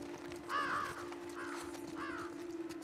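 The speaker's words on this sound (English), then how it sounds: "Those birds are kinda giving out your location." Crows in the video game The Last of Us Part II give three separate harsh caws over a steady low hum, moderately near and clear.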